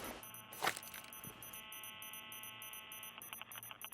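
Rapid, regular electronic beeping from a deployed C4 explosive in Rainbow Six Siege, repeating over a low hum, with a sharp metallic clatter early on. No voices.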